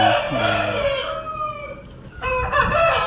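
A Bhimavaram fighting-breed rooster crows nearby, one long loud call followed by shorter clucking phrases, heard almost alone.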